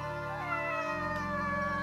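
A cat meows steadily and close up, its voice layered over a constant background drone of tones for the whole two seconds.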